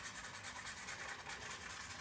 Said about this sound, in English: with that side of my brush, I'm actually going to rub on the edge of my box